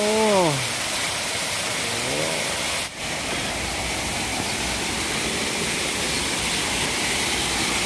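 A waterfall at a hillside temple rushes in a continuous broadband roar throughout, with a brief voice near the start.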